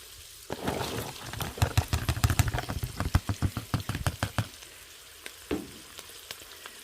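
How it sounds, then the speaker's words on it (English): Onions and garlic sauté with browned meat for Instant Pot spaghetti meat sauce, a close sizzle punctuated by a quick run of sharp scraping and tapping stirs that trails off into a softer hiss. "we're going to go ahead and saute this for a couple of minutes until that's kind of translucent"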